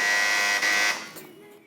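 Quiz game buzzer pressed during a children's Islamic quiz show, sounding as one loud, steady electronic tone held for about a second before fading out, with no talking over it.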